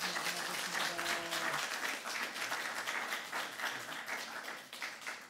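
A congregation at a Korean missionary society ceremony gives dense, continuous applause, with a voice speaking briefly over the start of the clapping.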